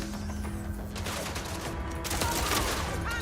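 Pistol gunfire in the video game Mind's Eye, a dense rattle of shots mixed with explosions and other action sounds, steady and fairly loud throughout under a busy game soundtrack.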